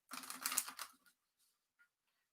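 A Saints and Angels oracle card deck is shuffled in a quick, faint burst of riffling card flicks lasting about a second, followed by a couple of soft isolated taps in otherwise quiet surroundings.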